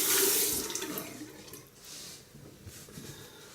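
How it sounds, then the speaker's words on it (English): Hands being rinsed under a running tap after a shave: a close, steady rush of faucet water splashing, loudest at first, then easing slightly as it keeps flowing, with no voices. "just let me rinse out my hands."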